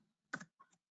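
Several quick keystrokes on a computer keyboard while typing a short comment into an online learning platform: a sharp cluster of clicks followed by a couple of softer taps, close and quiet, with no talk.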